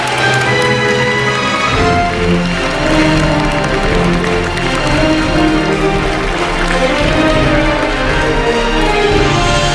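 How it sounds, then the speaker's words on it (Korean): A crowd applauds President Moon Jae-in as he is welcomed at a Gwanghwamun public event, a steady wash of clapping blended with loud, continuous music throughout. "큰 박수 부탁드립니다."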